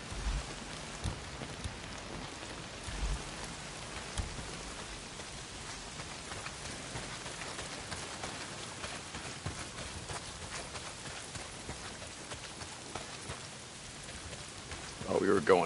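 Heavy rain pours down in the video game Days Gone, a steady dense hiss of falling water that stays even throughout and swells slightly at the very end.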